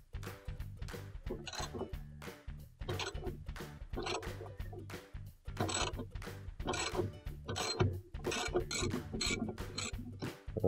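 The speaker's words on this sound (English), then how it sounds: "Now we're going to take our ratchet with our 7/16 socket on it." A ratchet with a 7/16 socket loosens the inner agitator screw of a washing machine, giving rapid repeated ratcheting clicks in quick bursts with brief pauses, close and clear.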